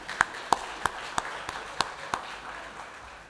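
Scattered applause at the launch of a climate resilience executing agency: about seven sparse, separate claps at an even rhythm, moderately close, with no talk over them.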